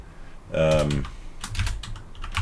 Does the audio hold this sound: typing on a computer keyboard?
yes